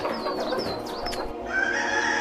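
A rooster or hen clucks and calls a few times nearby, followed by a higher sustained squawk, with steady background noise throughout.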